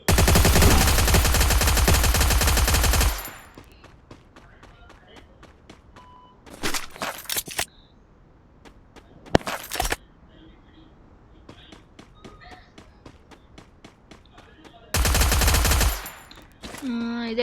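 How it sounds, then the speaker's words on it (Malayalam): Machine gun fire in a video game comes in loud sustained bursts at the start and near the end, with shorter volleys in the middle and quieter stretches between them. "വെടിവെക്ക് ഞാൻ കേട്ടു."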